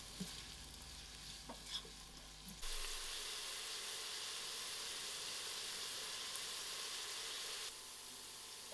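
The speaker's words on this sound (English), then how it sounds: "I'll allow those onions to get very brown." Onions frying in a pan for a spicy lentil soup, a steady broadband sizzle with occasional stirring scrapes early on, continuing evenly at moderate level with no talk.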